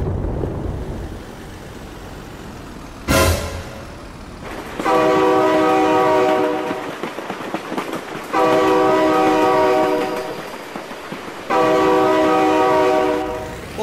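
Train passing in the BeamNG Drive driving game, its horn sounding in three long loud blasts separated by short gaps, preceded by a sharp impact and rumbling rail noise.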